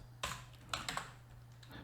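A few quiet keystrokes on a computer keyboard sound as soft, irregular clicks in a calm room, with a faint steady hum underneath.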